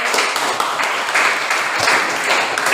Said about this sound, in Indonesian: Ya, terima kasih beri aplaus.